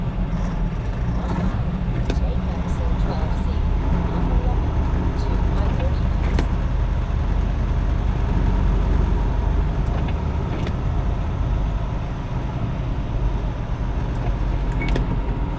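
Highway traffic on a Sunday rumbles continuously from inside a tractor-trailer cab, a loud, steady low road and engine drone with a few faint clicks and rattles overhead.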